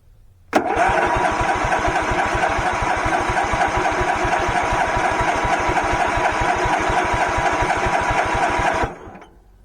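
A Case 444 garden tractor engine cranks and catches with a sharp start, then runs steadily at a loud, close, rapid chug for about eight seconds before it suddenly cuts off.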